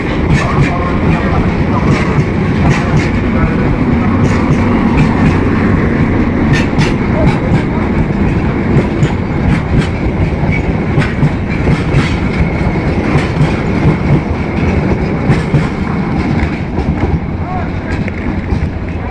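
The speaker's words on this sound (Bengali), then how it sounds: "বিশাল বড় ট্রেনটি।" A large passenger train bound for Dhaka Kamalapur rolls through a station in Bangladesh with a loud, close, continuous rumble and rhythmic clickety-clack of wheels on rail joints that runs throughout.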